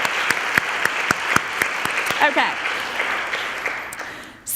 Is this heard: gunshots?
no